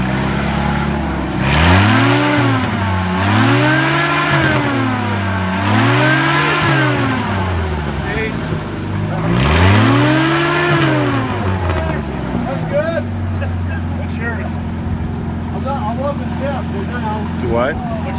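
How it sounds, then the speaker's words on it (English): A loud, noisy vehicle at a loudest-fan contest revs repeatedly in rising and falling surges, then settles to a rough idle. "They are very noisy vehicles."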